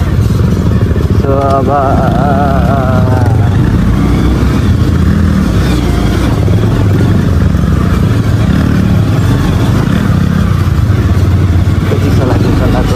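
A motorbike being ridden on a road gives a loud, steady engine rumble mixed with rushing wind noise throughout, while a person talks over it.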